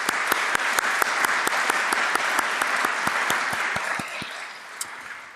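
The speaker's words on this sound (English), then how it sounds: "We can applaud" A conference audience at the 2024 Interfaith Symposium applauds with crisp, evenly spaced claps standing out over a dense wash of clapping, which thins slightly toward the end.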